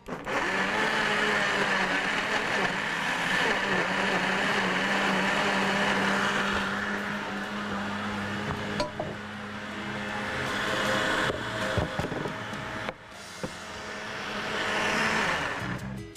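A blender whirs steadily at high speed, its motor pitch shifting slightly as a thick yogurt marinade churns, with a brief dip near the end before resuming.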